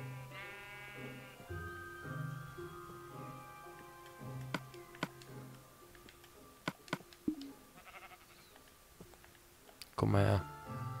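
Sheep in Minecraft bleat in repeated wavering cries while being sheared, mixed with sharp clicking blips from the game and a burst of louder noise near the end.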